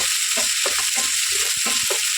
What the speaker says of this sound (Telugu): బాగా ఫ్రై చేసేసేయండి